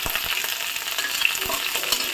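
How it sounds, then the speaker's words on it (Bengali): Spices and ingredients, green chilies and black cumin among them, frying in a pan for a pointed gourd peel mash, giving a steady close sizzle with occasional stirring scrapes and small pops throughout. "সবগুলো উপকরণকে একটু ভেজে নেব"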